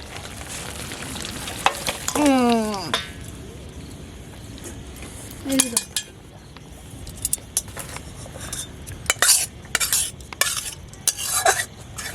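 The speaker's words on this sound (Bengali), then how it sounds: "এইবার আমি কড়াই ধরে মাংসটা নামিয়ে দিচ্ছি" Spiced kasha meat sizzles loudly in a kadai, with steady frying hiss, scraping stirs and metal clinks and clatters as the pan is handled and lifted off the heat; a voice speaks briefly over it.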